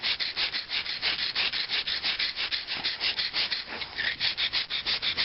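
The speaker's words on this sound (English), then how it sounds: "So you just continue grinding it." Rhythmic rasping strokes of a bone knife being ground on an abrasive surface to sharpen it, close and steady, about four or five strokes per second without pause.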